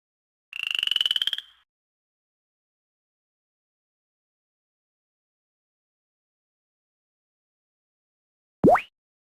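Frog sound effects from the Nintendo DS game I Did It Mum! Picture Book (2008), a short bright buzzing croak followed several seconds later by a quick rising chirp, both clean and isolated against silence.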